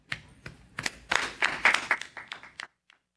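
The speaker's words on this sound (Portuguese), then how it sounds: "un aplauso para todos vosotros" A small audience at an SLWC event in Brazil claps, a short scattered burst of applause that swells and then tapers off into silence.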